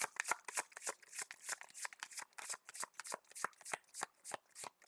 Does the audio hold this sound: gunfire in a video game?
no